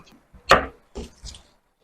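Scissors cutting blouse fabric close by, heard as three or four short crisp snips with brief gaps, alone and fairly loud.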